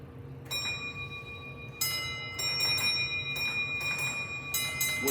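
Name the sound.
railway signal bell, Line Clear bell code 3-1-2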